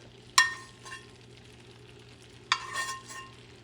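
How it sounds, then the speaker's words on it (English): Tomatoes sautéing in a pan, with basil nearby: a soft, low sizzle punctuated by two sharp utensil clinks against the pan, the second followed by a brief rustle of stirring. "The sauteed tomatoes."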